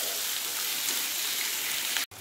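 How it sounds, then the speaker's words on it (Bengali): Tomato with onion and ginger-garlic paste fries in a pan as a dense, even hiss of sizzling oil, steady and close throughout, with a brief dropout near the end. "টমেটোটাও ভেজে নেব।"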